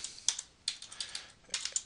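Quick bursts of typing on a computer keyboard while entering an inline-styled H3 heading in CSS, clicky keystrokes in three short clusters, close and fairly quiet.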